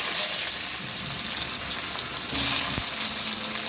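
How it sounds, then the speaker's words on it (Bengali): Onion dropped into very hot oil that already holds chillies for tempering, giving a loud, close, continuous sizzle that surges partway through, with a faint clink of a utensil. "তেলের মধ্যে লঙ্কা দিয়ে দিচ্ছি ফোড়নে। এই পেঁয়াজ দিলাম।"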